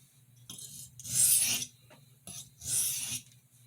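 Two long rasping strokes of a kitchen paring knife drawn across a sharpening stone, each swelling to a bright scrape and fading, with a brief pause between them and no talk.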